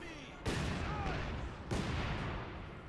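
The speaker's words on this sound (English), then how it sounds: "There's a lot of explosives coming his way though." Two heavy explosions boom in the Company of Heroes 2 video game about a second apart, each leaving a rumbling tail amid ongoing battle noise.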